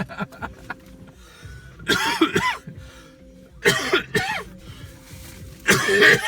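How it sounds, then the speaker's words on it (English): Three harsh coughing fits come in bursts a couple of seconds apart, close and loud, with quiet background noise between them. "coughing I get in the morning is awful"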